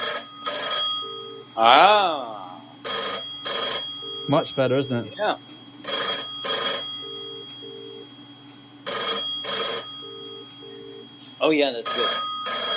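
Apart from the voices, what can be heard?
old-style telephone bell ringing, new phone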